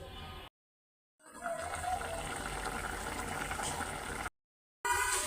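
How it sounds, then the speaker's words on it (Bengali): Spiced prawns and winter vegetables sizzling in a pot, a loud, dense hiss that starts, cuts out briefly and then returns, close and continuous without talk. "মাছ কষানোটা সুন্দর করে মাখায় বসায় দিলাম তো এটা কষতে থাকুক"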